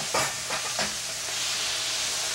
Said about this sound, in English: Add the tomatoes, the rest of the tomatoes, and stir it well.